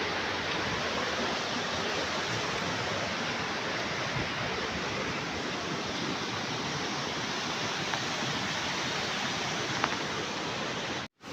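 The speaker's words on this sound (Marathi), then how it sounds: "हे इकडं पाणी खालती म्हणजे धबधबा मोठा पडतोय" Steady, roaring rush of falling water, loud and continuous throughout, with no voices.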